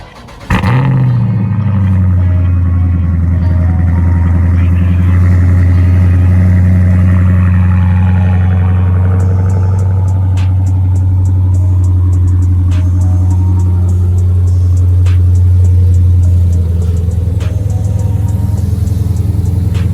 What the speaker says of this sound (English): Hit you with the cold start.